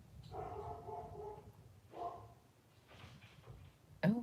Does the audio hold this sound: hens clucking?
no